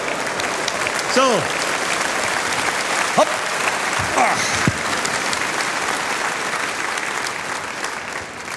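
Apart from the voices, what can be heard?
audience applause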